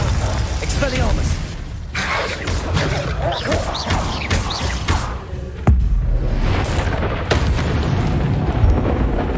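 Spell blasts from Confringo casts burst repeatedly in Hogwarts Legacy, loud booming impacts layered with combat effects and spoken incantations, with a sharp heavier hit near the middle.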